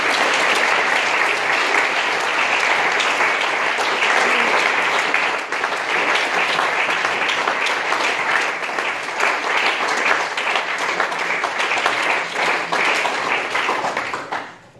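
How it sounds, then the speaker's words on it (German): Sustained audience applause at a short film festival award event, a dense, loud wash of clapping from a full room that holds steady for the whole stretch before tapering off at the very end. "möchte ich auf jeden Fall noch einen riesengroßen Applaus für alle Filmschaffenden der 17 heute hier gezeigten Filme her"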